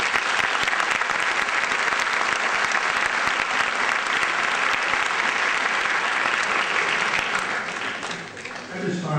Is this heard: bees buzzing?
no